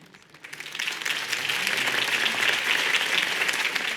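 Steady crowd applause at a campaign speech in Batman: The Telltale Series swells in over the first second and holds as a dense, continuous wash of clapping.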